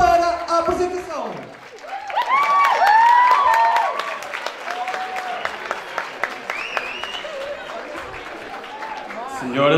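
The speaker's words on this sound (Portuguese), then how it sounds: "Peço um forte aplauso para a apresentação." Audience applause at a school soirée in Mangualde, a strong round of clapping from a crowd with some cheering, mixed with loud voices and tonal sounds in the foreground throughout.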